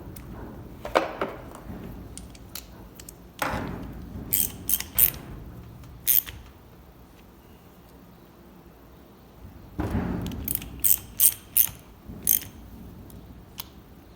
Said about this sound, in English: I'm going to torque down this, and this.